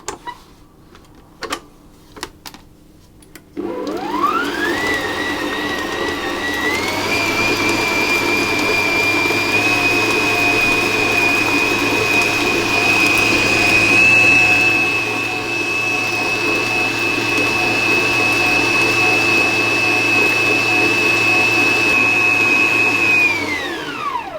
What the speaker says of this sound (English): I will mix this each time until that butter is incorporated before I add the next piece